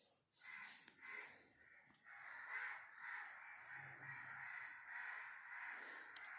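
Crows caw repeatedly outside a home, harsh calls in steady bursts that stay close and fairly loud across the whole stretch, with no talk over them.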